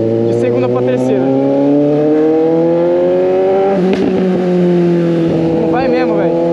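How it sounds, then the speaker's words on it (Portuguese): Suzuki GSX 750 motorcycle, running a bare exhaust pipe, revving up through the gears with clutchless shifts, its loud engine note climbing steadily before a sharp shift around the midpoint and continuing to pull, close up with someone talking over it. "da segunda pra terceira, dá pra trocar de boa sem usar a embreagem"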